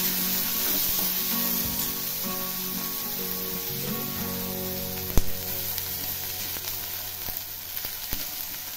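Onion and tomato fry in a pan for dhaba-style paneer bhurji, a steady close sizzle with soft crackle, occasional stirring scrapes and one sharp utensil clink midway, without talk.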